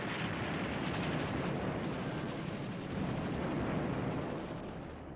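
Bombs exploding on the US carrier Lexington in a WWII naval battle, heard as a continuous loud, dense roar of blasts and rumble with no voices.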